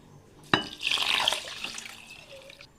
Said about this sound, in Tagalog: Huhugasan natin siya ng 3 beses.